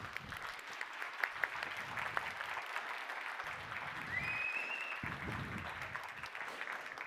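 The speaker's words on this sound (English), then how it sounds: "that was like polite applause" Polite applause from an audience, scattered clapping that swells and fades over several seconds, moderately faint and steady with a few louder claps.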